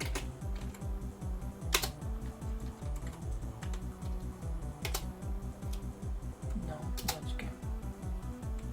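Steady typing on a computer keyboard hooked up to an Amiga-style emulator board, rapid clicky keystrokes running continuously and close by, with a few louder sharp clacks standing out.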